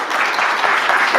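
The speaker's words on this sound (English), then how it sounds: "Let's give a round of applause" A short burst of dense applause from a crowd, many hands clapping at once in a steady wash.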